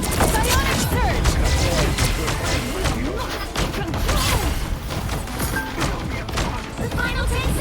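Explosions and impacts pile up during a chaotic Marvel Rivals-style hero-shooter fight, with rapid thuds and bursts overlapping almost without pause while a voice talks over the din.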